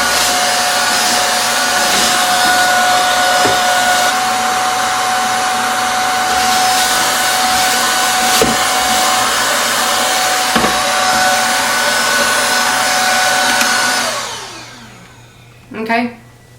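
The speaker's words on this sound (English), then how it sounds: "I'm going to try my new vacuum cleaner and we're going to vacuum it out" A handheld vacuum whines at a steady, loud pitch for about fourteen seconds, then winds down and cuts off, leaving a brief clatter.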